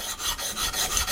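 A spokeshave blade bevel is slid back and forth on a sharpening plate, giving a close, steady raspy scrape in short repeated strokes with no talking.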